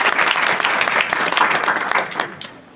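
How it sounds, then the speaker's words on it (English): A crowd at a school result ceremony at Holy Faith Convent Higher Secondary School applauds a student with dense, lively clapping that holds steady and then tapers off near the end. "Give them a big round of applause for Abhinav Patel."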